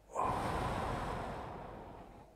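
A single long, deep breath drawn in sharply and slowly released, close to the microphone, airy and steady as it fades.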